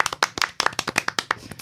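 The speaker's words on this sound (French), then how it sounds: "Non, attends, on applaudit" A small group applauding in a theatre setting, a handful of distinct, loud, close claps in an uneven rhythm over a second and a half.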